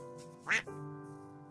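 A single loud duck quack sounds once over a steady electronic hum, a brief sound effect dropped into a live shopping stream.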